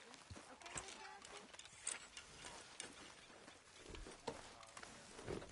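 Horse hooves in the video game Red Dead Redemption 2 clip-clop in a steady rhythm, faint and somewhat distant, while people talk over them.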